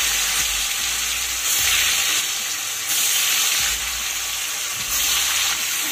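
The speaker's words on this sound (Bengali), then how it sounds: "পনিরগুলোকে তেলের মধ্যে হালকা করে ভেজে নেব।" Paneer cubes fry in refined oil in a wok, giving a loud, continuous sizzle that swells and eases in waves as the pieces are stirred, with no voices.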